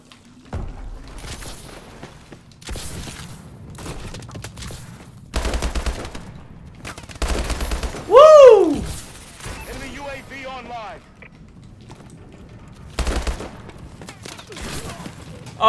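Call of Duty gunfire from online multiplayer gameplay: repeated short bursts of shots through the clip, with a louder crack and a descending whistle-like sweep midway, under game ambience and someone talking over it.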